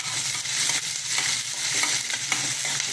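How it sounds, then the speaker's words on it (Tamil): Onions and garlic with a pinch of salt sizzle loudly in a pan for a simple chutney, with the rasp of repeated stirring over the constant frying hiss. "வெங்காயம் போட்டாச்சு. கொஞ்சம் உப்பு போட்டால் நல்லா வதங்கும் இல்லையா?"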